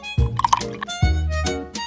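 Coconut milk pours from a saucepan into a small bowl, close and clear, with two distinct gurgling splashes about a second apart and light dripping between.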